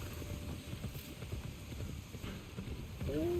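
Horse hooves clip-clop steadily in a medieval open-world video game as the player calls a mount, a quiet rhythmic patter under faint ambience, with a brief whinny-like tone near the end.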